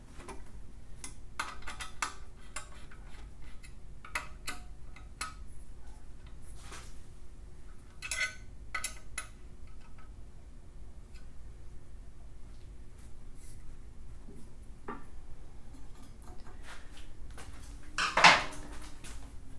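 A Holley 302-3 oil pan being fitted to a Chevelle LS turbo engine, faint metallic clinks and taps of hardware and tools, with one sharper ratchet-like clatter near the end.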